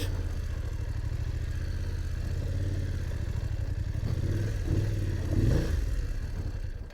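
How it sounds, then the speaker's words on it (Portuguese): A motorcycle engine rumbles steadily up close at a low idle in the Serra do Gandarela, Brazil, with a slight rise in revving toward the end. "Vou parar a moto ali."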